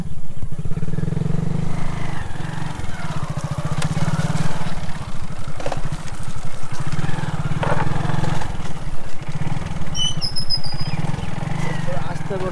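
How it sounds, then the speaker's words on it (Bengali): Motorcycle engine on a rough, muddy rural road, running loud and close with a rapid steady putter and slight surges, while people talk over it. "কোনো মতে ঠেলে ঠেলে পার করলাম বাইকটা।"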